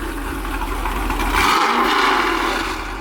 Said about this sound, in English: Man, that SS sounds good.